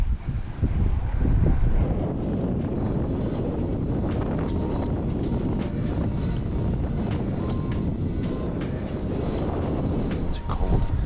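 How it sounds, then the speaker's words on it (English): Strong wind blows across a lake during early spring, buffeting the microphone in a loud, continuous roar with choppy gusts and scattered splashes or knocks, and no speech. "this wind is crazy"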